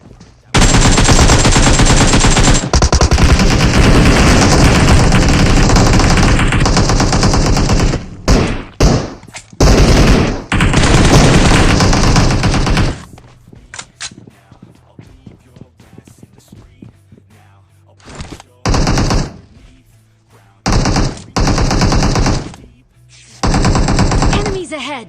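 Automatic gunfire in the mobile battle-royale game PUBG Mobile comes in long, loud sustained bursts, then in shorter, choppier volleys separated by quieter stretches with a low hum and occasional thuds.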